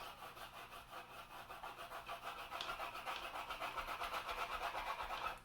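Side of a crayon rubbed back and forth on paper to shade sand in a drawing, a soft rhythmic scratchy rasp of quick even strokes, close and quiet with no talking.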